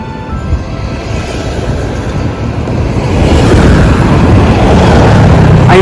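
An LRT Line 2 train runs along Marcos Highway, a broad steady rumble and rush that grows louder toward the end, with wind buffeting the microphone.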